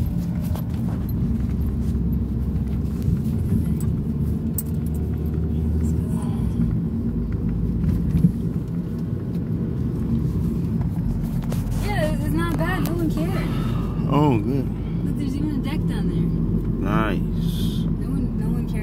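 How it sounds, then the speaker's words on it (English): Cars edging around a stopped vehicle on the 4900 block in Miami Beach, a steady low traffic rumble with passing engines throughout, under ongoing talk. "all these cars have to go around me"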